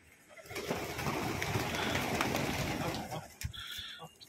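Pigeons kept by a breeder in a loft, cooing and fluttering steadily at close range, with a dense continuous mix of bird calls and brief rustles over about four seconds, no clear talk.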